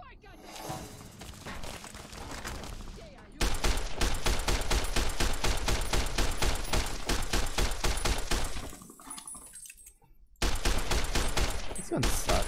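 Fast, evenly spaced gunfire from a weapon in Fallout: New Vegas, loud and close, with long rhythmic bursts broken by a brief lull and a short gap, and a voice talking at times.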